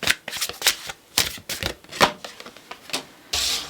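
Tarot cards being shuffled close up, a rapid series of papery riffles and slaps in uneven bursts, ending in a longer rustling sweep, with no talking.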